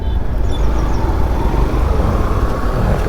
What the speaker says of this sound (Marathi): इकडून पण गाड्या येतात, तिथून पण गाड्या येतात